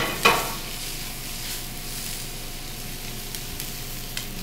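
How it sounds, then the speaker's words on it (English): Onion hitting a hot pan, with a short clatter at first and then a soft, steady sizzle and frying hiss, with no talk. "So we'll hit this with a little bit of onion"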